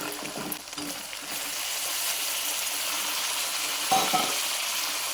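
Tomatoes tipped into hot oil in a pan for a tomato rice mix, giving a steady close sizzle and frying hiss with a few brief stirring scrapes and a small clink near the end.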